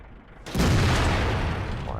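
A World of Tanks tank gun fires one loud, close boom that hangs as a long rumbling tail.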